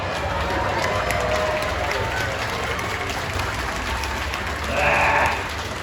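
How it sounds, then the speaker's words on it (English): A crowd claps and cheers steadily throughout, with a louder swell of applause near the end. "What do you mean you want some applause?"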